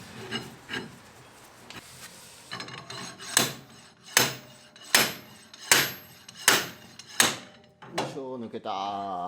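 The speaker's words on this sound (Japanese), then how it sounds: "これでスライディングハンマーで引き抜きます。" A sliding hammer pulls a rear suspension part from a Caterham Super Seven, with about seven sharp, evenly spaced knocks ringing out close by, followed by a brief voice at the end.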